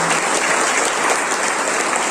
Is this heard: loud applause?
yes